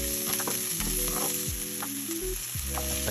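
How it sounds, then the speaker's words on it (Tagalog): Chopped onion sizzles in hot extra virgin olive oil, a steady close crackle with scraping stirs and utensil clinks, no voices. "At once na uminit na ang mantika, sunod na natin ang sibuyas."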